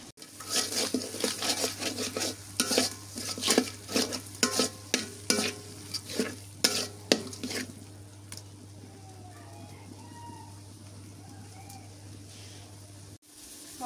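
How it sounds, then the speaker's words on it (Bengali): Ground spices including turmeric and garam masala sizzle in a pot while a spoon stirs and scrapes in an uneven rhythm, close and clear, then the stirring stops and a low steady hum and faint birdsong remain. "মশলা কষানো হয়ে গেছে, এবারে মাংস দিয়ে দিই।"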